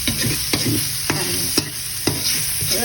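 Pork bones frying in hot oil while being stirred: a steady loud sizzle broken by about six regular scraping stir strokes, close up and without talk.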